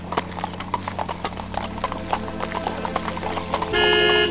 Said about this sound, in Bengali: ঘোড়ার গাড়িটা তার গাড়ির দিকেই সোজা ছুটে আসছে